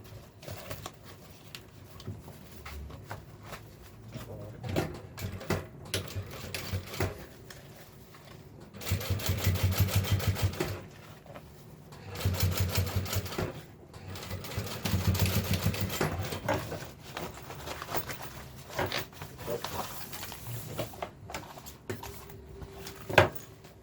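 A sewing machine topstitches the pulled-out lining of a lunch bag in several runs of rapid, steady needle chatter, with quiet pauses of fabric handling between the bursts.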